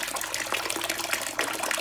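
Water running steadily from a small fountain inside a greenhouse kept for a tree frog, a continuous close trickling and splashing with no talk over it.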